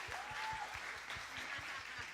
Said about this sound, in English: give these guys a big round of applause one more time